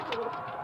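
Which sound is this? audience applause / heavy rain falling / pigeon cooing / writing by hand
pigeon cooing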